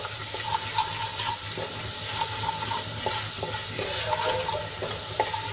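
Gram flour sautéing in a pan with ginger, garlic and chili paste makes a steady, close sizzle, with soft scraping and stirring taps breaking through it at irregular moments.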